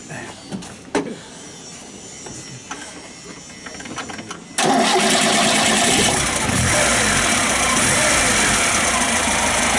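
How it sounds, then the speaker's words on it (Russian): A 39-year-old VAZ-2103 car engine starts abruptly after some quiet handling noises, then settles into a loud, steady, even idle that continues without knocks to the end. "Хороший ровный гул мотора. Ничего не стучит, звонких стуков нет."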